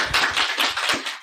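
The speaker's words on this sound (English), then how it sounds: "Round of applause." A brief round of applause from a small group rings out close by, quick overlapping claps in uneven bursts lasting just over a second before stopping.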